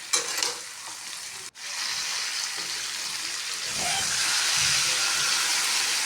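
Bitter gourds frying in hot oil sizzle loudly; after a brief cut, a bowl of water poured into the pan sets off a steady, louder hiss and bubbling that carries on close and alone.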